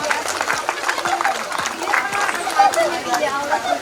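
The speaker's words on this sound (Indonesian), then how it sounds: "Tepuk tangan buat kapus yang petinggi." An audience at an Indonesian government launch event for integrated primary health services and stunting prevention claps in scattered, uneven bursts, mixed with crowd chatter and a voice over a loudspeaker.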